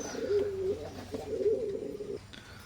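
Teddy pigeons of an imported bloodline coo nearby in two soft, rolling phrases, each a low throaty warble, with no talk over them.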